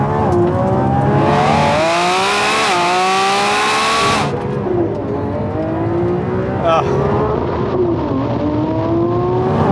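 A Lamborghini V12 pulls hard in a drag race, its loud, close engine wailing upward through the revs. It drops sharply at quick gear shifts, then climbs again as acceleration continues.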